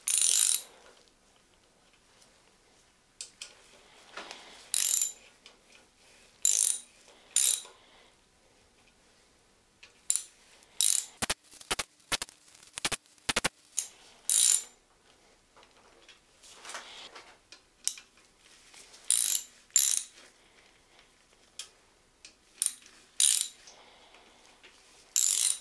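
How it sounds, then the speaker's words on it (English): A ratchet fitted with a Torx bit runs down bolts on a BMW V12 engine during a bottom end rebuild, giving close, crisp clicking bursts separated by pauses, with one quick run of sharp ratcheting clicks in the middle. "I have my Torx bit here. I'm just going to start running these down."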